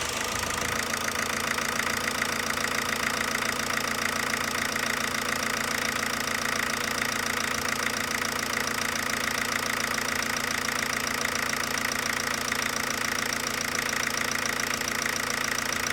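A Ford Transit Connect diesel engine idles after starting, a steady close mechanical rattle with a tonal hum, clattering evenly without pause and with no talk.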